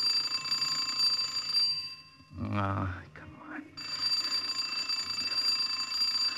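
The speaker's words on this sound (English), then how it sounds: "I must have rung that bell till my finger wore out" A radio drama doorbell sound effect rings in a steady, shrill electric trill that cuts out briefly while a voice speaks, then resumes and keeps ringing to the end.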